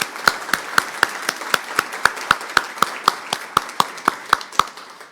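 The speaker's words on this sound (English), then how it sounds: "let's give them a round of applause" Clapping at an annual member meeting comes as a steady, evenly spaced series of about twenty crisp claps, close and distinct like one person applauding alone.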